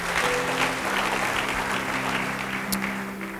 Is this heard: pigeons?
no